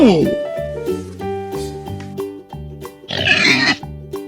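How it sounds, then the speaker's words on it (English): Cartoon pig oinks in a children's Old MacDonald farm song, short rhythmic grunting snorts over bouncy musical accompaniment with a singing voice. "With an oink oink here and an oink oink there"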